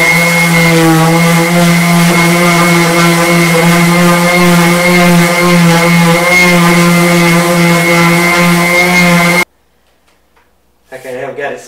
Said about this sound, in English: we're going to go back and sand it down to make it even and smooth